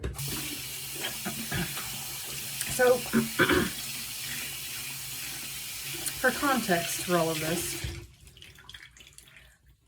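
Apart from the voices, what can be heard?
bathroom sink faucet running water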